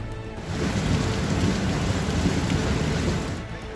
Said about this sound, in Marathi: 24 तासात मुसळधार पावसानं मुंबईला असं काही झोडपून काढलं